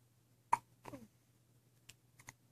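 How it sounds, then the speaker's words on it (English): Baby girl hiccuping just after a feed, with several small, sharp, quiet hiccups spaced unevenly over a couple of seconds against a low steady hum, close by. "She just ate, so she's the hiccups right now."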